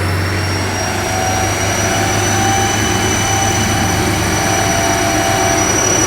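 A Porsche 718 GTS with an APR Stage 1 tune on 93 octane runs hot on a chassis dyno, making a loud, steady drone and roller roar without distinct revs.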